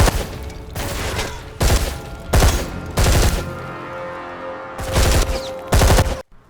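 Bursts of rapid, loud gunfire erupt repeatedly in short volleys, with brief pauses between them, sounding like a video game shootout.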